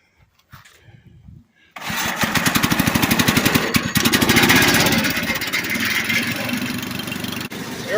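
A Mackissic Mighty Mac 760A wood chipper engine is pulled over and catches, then settles into a loud, close, chugging run with a rapid regular firing beat, after a few quiet handling noises.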